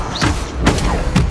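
Stupefy spell casts in Hogwarts Legacy, three sharp whooshing bursts with thuds about half a second apart, close and loud over a steady game background.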